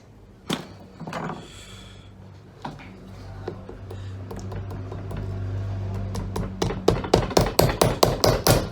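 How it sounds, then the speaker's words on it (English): Repeated hammer taps on small lasting tacks driven into an army parade shoe, starting sparse and speeding into a quick, steady rhythm of sharp, close knocks toward the end. "we're just going to get our lasting tacks. Pop some nails in there."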